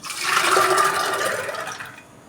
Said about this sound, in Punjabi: ਇਹ ਪਾਣੀ ਸਮੇਤ ਇਹਨਾਂ ਨੂੰ ਮੈਂ ਕੁੱਕਰ 'ਚ ਪਾ ਦਾਂਗੀ